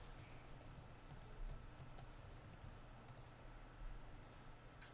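Quiet keystrokes tap on a computer keyboard in short irregular bursts, faint and close, over a low steady room hum.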